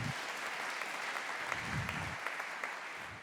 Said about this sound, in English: This is when you clap.